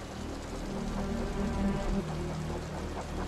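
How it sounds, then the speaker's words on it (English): Heavy rain pours steadily through a Wuthering Waves game scene, a dense, even wash of downpour layered under soft tonal background music. "The rain's getting heavier."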